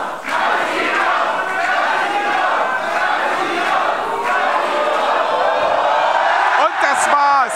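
A wrestling crowd at a live show chants and roars in a sustained, dense wall of voices, loud and enveloping, demanding a wrestler be thrown out, with a whistle-like squeal near the end.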